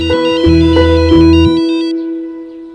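A phone ringtone plays a repeating melodic pattern of bright tones, loud and close, in roughly three bursts before fading out, with no talk over it.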